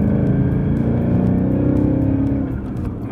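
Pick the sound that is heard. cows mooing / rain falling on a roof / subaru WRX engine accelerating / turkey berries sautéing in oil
subaru WRX engine accelerating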